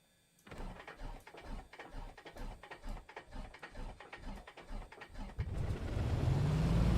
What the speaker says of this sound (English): And now we can start the engine.